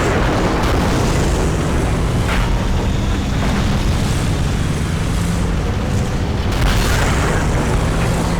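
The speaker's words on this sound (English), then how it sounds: "So I put a couple quick shots towards him." Tank cannon shots in a video game boom out at a charging 50B, several heavy, rumbling blasts that roll into one another over a constant low engine drone, with no voices.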